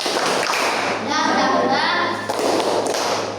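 Children in a classroom doing a rhythmic clapping chant, with steady claps and thumps under lively young voices chanting together.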